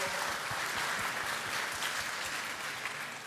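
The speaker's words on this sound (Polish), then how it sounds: "proszę o brawa" An audience claps steadily throughout at a welcome ceremony in Lublin, a dense, even wash of applause with no speech over it.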